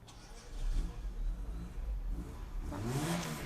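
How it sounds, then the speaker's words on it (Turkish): A car engine revs outside, heard from near a balcony. The muffled whirring drone swells and surges, fairly faint and distant, with a rising whine near the end. "Ben araba sesi geliyor."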